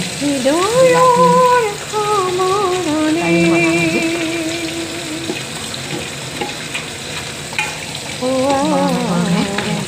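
Seasonal cauliflower coated with turmeric and salt fries in a pan, giving a steady close sizzle throughout while a melodic tune plays over it.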